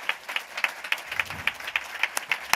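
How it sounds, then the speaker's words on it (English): A small audience claps after an appeal for a round of applause at an evening event, the scattered hand claps sounding thin and uneven, with individual claps standing out rather than merging into a dense wash. "can have a round of applause for Gemma as well."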